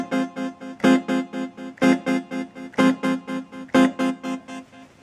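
Gameduino 2 Groove Buddy synth playing without chorus: a dry, buzzy sequenced pattern of short repeated notes in a steady pulsing rhythm with accented beats, clean and close, no talking.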